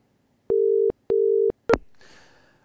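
Telephone ringback tone on a line while calling a contest winner, two steady buzzing pulses followed by a sharp click as the call connects, then faint line hiss.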